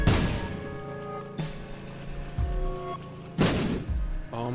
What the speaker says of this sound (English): We're gonna try and bomb this out of there.